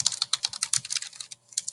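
Rapid keyboard typing on a computer keyboard, a close run of quick, fairly even keystrokes with a brief pause near the end before a few more taps.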